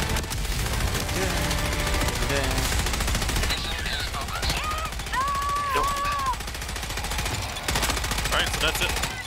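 Sustained rapid gunfire in the video game Helldivers 2, loud bursts of automatic fire and shots rattling continuously with sharp tonal whines and effects mixed in, with players talking over it.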